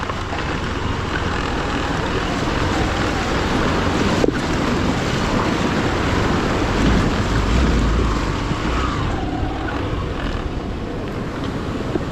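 Rushing stream water washes loudly and continuously around a hiker wading across a mountain river in sandals on a trail in Nepal's far west, with wind buffeting the microphone and no talk.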